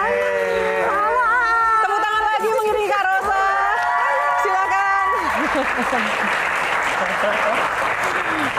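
A talk-show studio audience applauds loudly for a guest singer, steady dense clapping mixed with crowd chatter, with a speaking voice over the start before the clapping swells alone.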